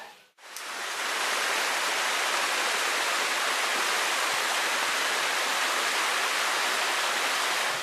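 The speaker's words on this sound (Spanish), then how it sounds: "Hemos vuelto a bajar al río." A river rushes steadily close by, a dense, continuous broadband roar of flowing water that sets in after a brief quiet start and holds unbroken to the end, with no voices over it.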